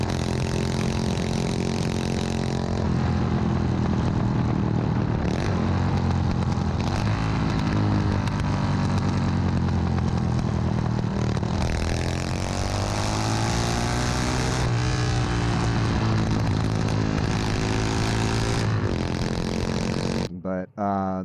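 A shaft-driven motorcycle with a 45-degree V-twin and dual carburetors runs steadily, a loud close engine drone with rising and falling revs, heard alone until it cuts off near the end.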